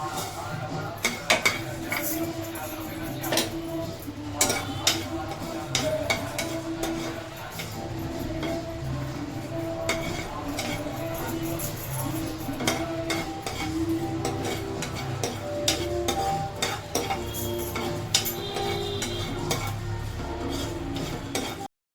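Cumin, fenugreek and coriander seeds dry-roast in a pan, with repeated clinks and scrapes of a spoon stirring against metal over a soft crackle, steady and close, with some faint speech in the background.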